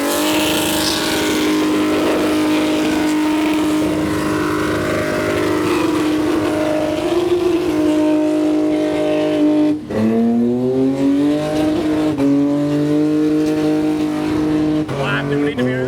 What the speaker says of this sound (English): This little Cortina looks like it's about to go. What do you reckon? Is this one going to do a good skid?